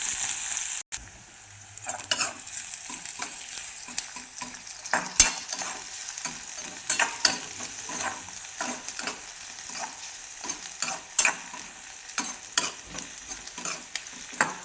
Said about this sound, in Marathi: मोहरी तर तडली की जिरे टाकायचे लगेच कांदा पण टाकून घ्यायचा हो एका मिनटासाठी असं हलवत राहायचं